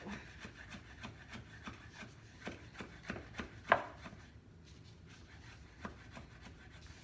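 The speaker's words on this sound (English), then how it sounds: "I'm gonna chop up some more cilantro" Fresh cilantro is chopped with a knife on a cutting board, a fast steady run of close, crisp knife taps that thins out and stops toward the end.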